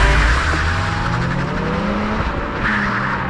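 Subaru race car launching at a race start, a loud engine roar close by with tire squeal and skidding as it pulls away hard.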